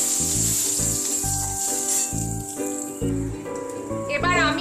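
Asafoetida dropped into hot oil for moosur dal with raw papaya, a crisp frying sizzle and hiss running beneath a voice speaking close by.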